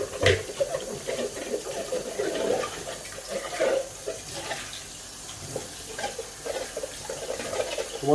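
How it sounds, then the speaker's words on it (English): Tap water runs in short bursts as Breville Compact Juice Fountain juicer parts are rinsed, with intermittent splashing and gurgling at moderate level and near silence between. "you can just rinse it if you want, especially if you're planning to juice again"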